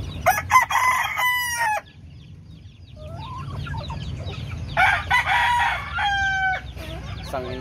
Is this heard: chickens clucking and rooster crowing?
yes